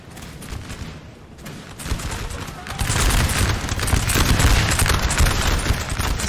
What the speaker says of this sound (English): volleys being exchanged right now between the French and Prussians